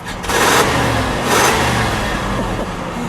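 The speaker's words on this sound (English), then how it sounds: "And listen to how smooth it is. Go ahead, give it a rev." A 1967 Ford Thunderbird two-door with a Landau roof, parked, has its engine revved close by: two loud, swelling revs over a steady idling rumble, with no talk.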